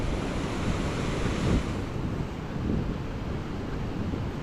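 Arabian Sea waves wash onto the beach in a loud, continuous roar of surf, with two swells building around the midpoint and wind buffeting the microphone; no voices.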